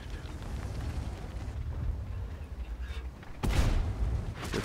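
A tank cannon fires in a video game battle, a sudden loud boom breaking in after a stretch of rumbling engine and battle noise.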